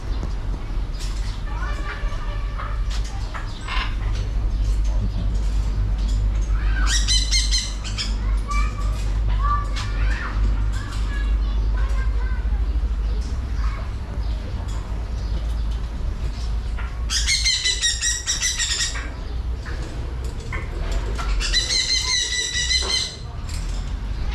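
Shrill parrot squawks and squeals burst out in several loud clusters over a steady low rumble, with voices chattering in the background, at a rest stop in Cambodia.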